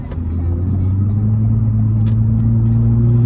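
A car engine idles with a deep, steady exhaust rumble, close and constant throughout, with no one speaking.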